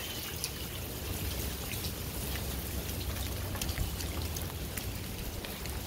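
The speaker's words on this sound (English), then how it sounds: "It's raining." Dense, steady rainfall from a hurricane patters continuously on surfaces nearby, with scattered sharper drips standing out from the constant hiss.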